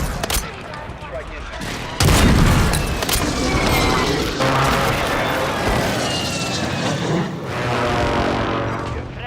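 Mortar strike explosions in the video game Warzone erupt as a loud, dense barrage of booms and crackling blasts, with a heavy hit about two seconds in and continuous rumbling fire afterward.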